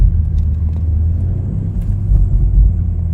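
A BMW Z4 G29 engine runs in sport mode at around 1000 RPM, a steady low rumble heard from inside the car with no speech over it.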